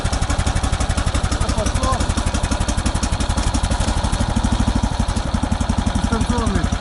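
A walk-behind hand tractor engine runs loud and close in winter, with a steady rapid thumping beat throughout and faint voices in the background.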